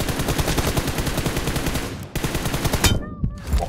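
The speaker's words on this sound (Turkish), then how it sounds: "Ben 50 tane mermi attım, adam bana 2 mermi attı." Loud, rapid automatic gunfire in a multiplayer team deathmatch shooter game, dense rhythmic bursts with a short gap and a few sharper shots near the end.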